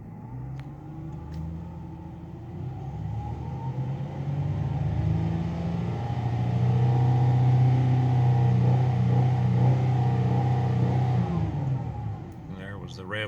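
A Ford Mustang engine revs steadily up toward its rev limiter after a fuel injector cleaning, a loud, sustained, rising drone that holds near the top for several seconds before dropping away, heard close with no talking.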